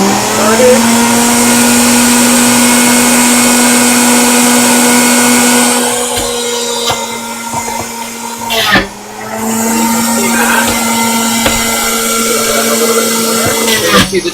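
An electric juicer grinds carrots with a loud, steady motor whine, easing slightly partway through before continuing, with a brief thump in the middle and faint talk beneath.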